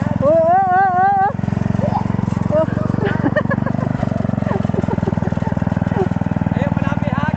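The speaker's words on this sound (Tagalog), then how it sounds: "may bago ng ano traktora, di gasolina." A homemade gasoline-powered farm tractor engine chugs with a rapid, steady mechanical pulse close by, while a siren-like warbling tone briefly rises over it at the start and people talk in the background.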